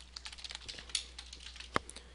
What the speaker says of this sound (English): So just type in what I'm typing.